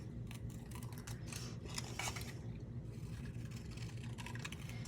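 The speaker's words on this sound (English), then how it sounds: "I'm just going to fussy cut it" Scissors fussy cutting paper card make a series of quick, close snipping and rustling strokes over a steady low hum.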